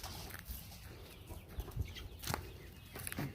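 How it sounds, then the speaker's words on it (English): Frizzle chickens and meat chickens clucking softly in a pen, scattered low clucks and brief wing rustles at moderate distance, fairly faint throughout. "These are our frizzles and our meat chickens."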